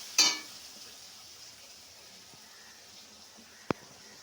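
Spice paste and a splash of water hitting hot oil while frying a spicy curry of tiny kachki fish, a sharp burst of sizzling that quickly fades to a faint steady fry, then one brief clink.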